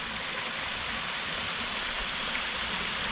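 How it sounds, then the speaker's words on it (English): Steady, broadband rush of a small waterfall on a scenic creek in a forest, close and continuous, with no voices. "found this little waterfall"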